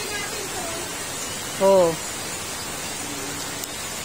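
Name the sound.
heavy rain during a flood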